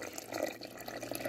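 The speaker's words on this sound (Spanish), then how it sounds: "Vamos a agregarle agua." Water is poured into a melon-seed drink, making a soft continuous splashing and trickling that is fairly quiet and steady, with no talk.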